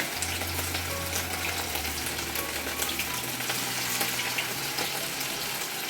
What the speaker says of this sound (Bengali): এখন পকোড়াগুলো ভাজা হচ্ছে